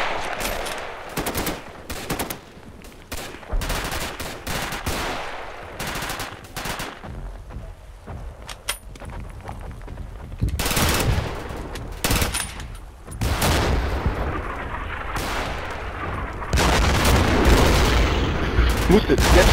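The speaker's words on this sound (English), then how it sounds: "Get machine guns up." Machine guns fire in the WWII shooter Darkest Hour: Europe '44-'45 during a Berlin street fight. Loud, dense automatic bursts and heavy booms run almost without pause, with voices heard within the battle noise.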